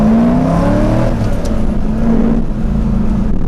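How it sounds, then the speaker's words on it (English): A 2001 Chevrolet Corvette C5 accelerates, its V8 engine note rising in a loud, steady drone heard close up from inside the car, with no talking. "you're plenty able to get this 2001 Corvette to go fast"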